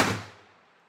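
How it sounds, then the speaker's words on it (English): One gunshot at an outdoor shooting range at Wilson Shoals Wildlife Management Area, a sharp loud crack that decays quickly into a fading echo. "we're at the range today, so excuse the gunfire"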